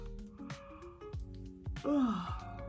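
A tired person yawns once near the end, a drawn-out breathy vocal sound after a few quiet soft noises, close and fairly faint, with no speech.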